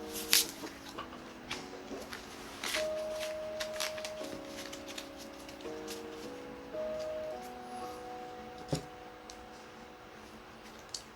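Tarot cards shuffled and gathered by hand, a soft run of riffling, tapping card sounds over about eleven seconds, close and fairly quiet, with a faint tone in the background and no talking.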